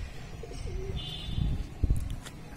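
Soft coos from Bajre pigeons sound a few times at moderate distance over a faint outdoor background in bright sun, with a brief chirp and some light rustling.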